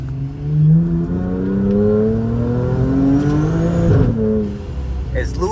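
A car engine drones and revs close by as the vehicle drives at about 50 and loses traction, a steady motor tone rising and falling with someone speaking over it.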